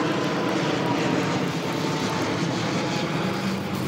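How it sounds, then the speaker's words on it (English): An airplane passes overhead outdoors near a store, a steady, loud broadband engine roar that holds for the whole span with no talk over it. "Oh, there's an airplane going over."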